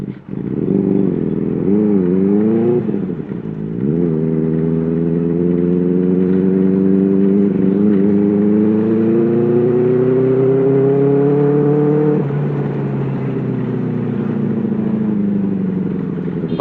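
A Benelli 600i motorcycle fitted with an IXILL 55 exhaust revs up through several quick throttle blips, then pulls away in a long, loud rising drone before easing off, close and alone without talk.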